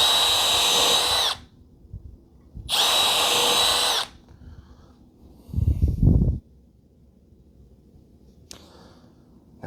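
Power drill finishing holes drilled in wood for a cordless vacuum stand build, two loud steady whirring bursts, then a lower grinding burst, then a faint brief whine with quiet gaps between.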